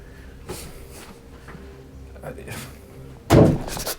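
A drawer slams shut with a single loud, sharp bang near the end, inside an old manor during a paranormal investigation, following quiet room noise with faint voices.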